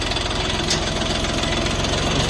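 A small three-cylinder diesel engine of a four-wheel-drive Xingtai 244 mini tractor idles steadily with a low, even chugging throb and a faint knock. It is close and continuous, with no voices.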